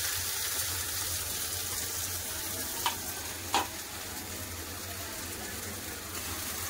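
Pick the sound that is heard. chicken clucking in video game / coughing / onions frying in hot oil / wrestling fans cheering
onions frying in hot oil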